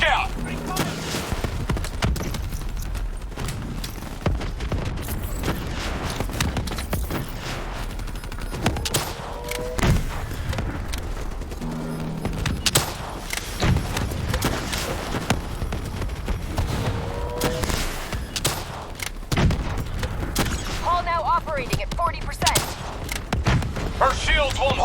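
Heavy gunfire in the Call of Duty: Black Ops III mission Demon Within, with sustained bursts and volleys crackling nonstop during a boss fight against an armored target, loud and dense, with voices shouting over the shooting.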